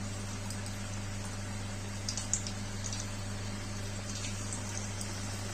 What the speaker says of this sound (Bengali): বেগুনটাকে আমি নুন মাখিয়ে রেখেছিলাম, ব্যাটারে দিয়ে এটাকে আমি এবার ভেজে নেবো